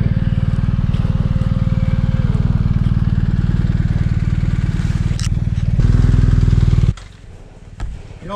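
A motorcycle engine idles steadily and loudly up close while the rider walks beside it and steers it by hand on a Trans Euro Trail route in Auvergne. The engine cuts off near the end, leaving quieter rustling.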